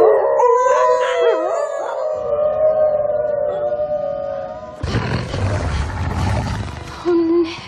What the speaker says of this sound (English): You're gonna start a howl.